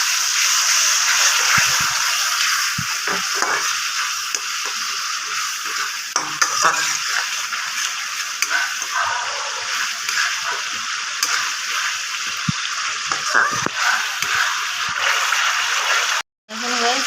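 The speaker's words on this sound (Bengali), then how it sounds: "এখন আমি এটাকে ভালোভাবে কষিয়ে নিচ্ছি" Masala for a curd fish curry is stir-fried in a pan with a little water. A steady, close frying hiss runs under repeated scraping and clinking spoon strokes, with a brief dropout near the end.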